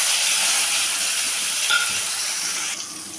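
Thick-cut eggplant frying in hot oil tempered with nigella seeds, salt and turmeric, a loud, close, continuous hiss that eases slightly near the end.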